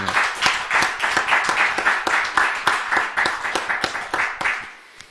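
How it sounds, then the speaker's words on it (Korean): A church congregation claps together in a sustained round of applause after a children's worship performance, dense and steady, then tapering off at the end. "우리 한 번 더 박수로 격려하고 축복하도록 하겠습니다."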